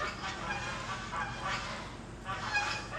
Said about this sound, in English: I got geese in the area.